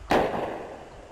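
A single gunshot fires in the video game Human Fall Flat, a sharp loud crack with a short ringing decay, heard alone.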